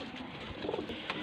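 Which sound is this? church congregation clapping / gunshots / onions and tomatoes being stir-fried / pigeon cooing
pigeon cooing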